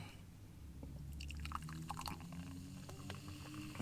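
An energy drink poured from a can into a glass, a short gurgling, fizzing liquid splash with a few bubbly drips, close and modest in volume, with no talking.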